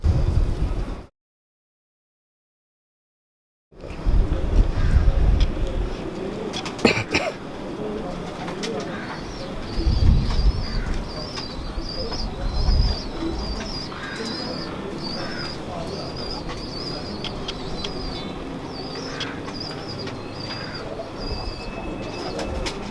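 Salari pigeons, including a female, cooing steadily in a loft setting; a continuous bed of soft throaty cooing and rustling, moderately loud and close, with occasional bumps and someone speaking in the background.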